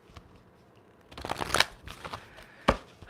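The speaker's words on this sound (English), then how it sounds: "That was a terrible shuffle." Tarot cards riffled and shuffled by hand at close range, a quick burst of crisp flutters followed by a sharp snap as the deck is squared, with no talk over it.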